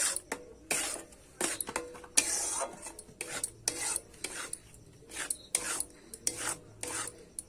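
Carrot pitha dough is stirred and worked in a pan over a low flame, giving repeated close scraping, rasping strokes in irregular bursts with short pauses between them and no talk.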